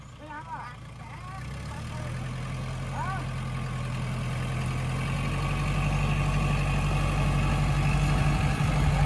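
A rice harvester's engine drones steadily while pulling a Kubota L5018SP tractor in a freshly prepared paddy field, a low, rising rumble that grows louder over several seconds, with someone talking over it.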